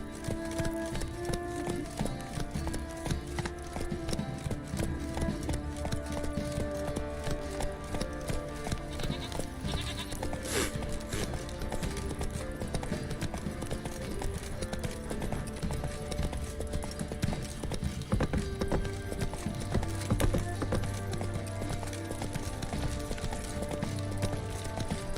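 Roach, Geralt's horse in The Witcher 3 video game, gallops with steady rhythmic hoofbeats under a continuous music score, the clopping even and moderately loud throughout.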